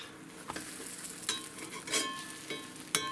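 Crunchwrap filling browning in a hot pan gives a steady low sizzle, with scattered clinks and scrapes of a utensil stirring against the pan, including a sharp clink near the end.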